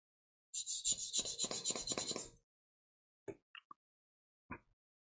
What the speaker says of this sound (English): scrape the lume out the best I can.